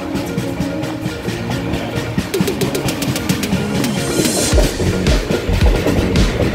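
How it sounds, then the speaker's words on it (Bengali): Train rumbling into Dakshineswar station in Kolkata, a steady rolling rattle with rhythmic clickety-clack, squeal-like high streaks and chirping birds overhead, growing heavier and louder toward the end. "এবার আমাদের ট্রেন এই দক্ষিণেশ্বর স্টেশনে প্রবেশ করছে।"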